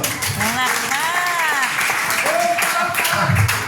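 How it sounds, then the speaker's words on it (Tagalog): A crowd at a barangay community gathering in Concepcion applauds while people talk and call out loudly over the clapping, which stays steady throughout. "Palakpak!"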